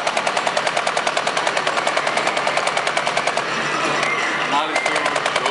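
Rapid automatic gunfire comes from the Terminator Salvation arcade game, with loud, fast, evenly pulsing shots that run almost without a break and dip briefly near the end.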